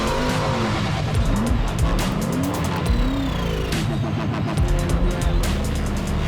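Off-road race cars at a wild desert motorsport event roar continuously with loud engine drone, while tires repeatedly squeal and skid in sharp bursts over a dense, unbroken wall of noise.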